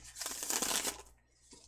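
A deck of tarot cards being shuffled: a dense papery riffle lasting about a second, then near silence with a faint flutter at the end.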